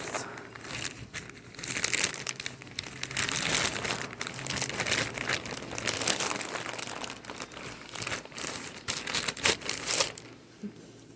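A hard-to-open package is torn at by hand without scissors, producing continuous close crinkling and crumpling with sharp ripping bursts throughout.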